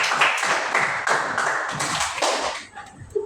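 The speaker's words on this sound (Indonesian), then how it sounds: "beri aplaus yang meriahnya juga untuk kelompok Sekian 3" Applause from the audience after group 3's classroom presentation, a burst of dense clapping that fades out after about two and a half seconds, followed by a few faint sounds.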